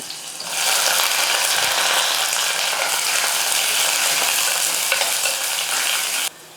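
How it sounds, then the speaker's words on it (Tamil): Onion, garlic and curry leaves sautéing in a pan, a loud, dense, continuous sizzle heard up close that starts abruptly and cuts off sharply near the end, with no one talking. "பாருங்கள் வெங்காயம் வந்து நல்லா வதங்கிடுச்சு"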